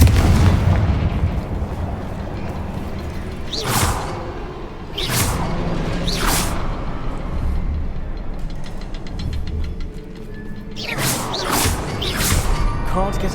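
Confringo blasting curses go off in the Hogwarts Legacy game, several sharp booming explosions with whooshing bursts spaced a few seconds apart over a dense rumbling background, loud and close.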